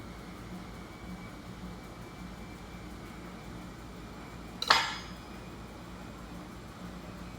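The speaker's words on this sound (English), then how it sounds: "I like to start by slicing my avocado open" A knife slices open an avocado in a home kitchen, making one short, crisp cut that rises briefly above a steady background hiss.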